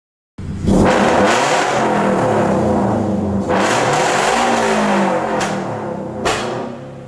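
A Subaru BRZ / Toyota 86 / Scion FR-S with a loud budget aftermarket exhaust revs hard several times, the exhaust roaring loud and close with sharp throttle blips, no talking.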